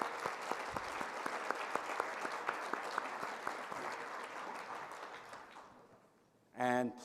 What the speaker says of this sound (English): Let's have a big round of applause for our first group of presenters